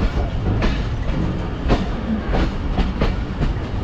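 The Hazara Express rolls past a ZCU-20 locomotive in Pakistan with a loud, steady rumble and regular clickety-clack beats from the wheels on the rails.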